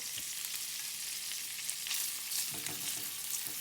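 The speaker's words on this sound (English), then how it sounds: "now that the oil's up to temperature, I'm gonna add only the pancetta" Pancetta fries in hot oil for an omelette, a loud, continuous crackling sizzle with small pops, steady from start to finish with no voices.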